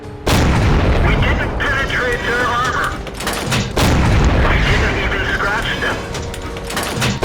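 Tank cannon fire in a tank video game: heavy booming blasts with a rumbling roar that carries on for seconds, two big shots about three seconds apart, loud and close, with a voice talking over them.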